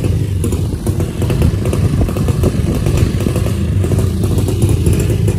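A boda boda motorcycle engine in Kenya rumbles loudly and continuously up close, with a rough, rattling idle and slight surges in revs.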